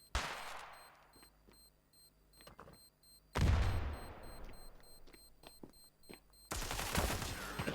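Gunfire from the mobile shooter Standoff 2 on an iPhone 13 Pro: loud bursts of rapid automatic shots in three clusters, separated by quieter stretches with faint clicks and in-game effects.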